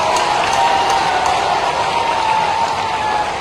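Sustained loud applause from a big crowd at a political rally in Morena, a thick, even roar of many hands clapping at once with a faint tone under it.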